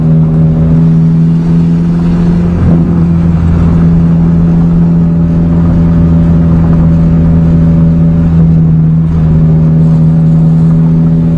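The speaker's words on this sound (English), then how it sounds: "Now drive all the way back to the beach" A five-speed manual car drives along a beach track, its loud steady engine drone holding a constant pitch with short dips where gears change, heard from inside the car without speech.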